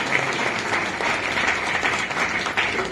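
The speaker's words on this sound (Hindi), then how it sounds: "जोरदार ताली बजाए परमेश्वर के लिए" A church congregation applauds loudly during a Hindi sermon, a dense steady wash of clapping filling the room without a break.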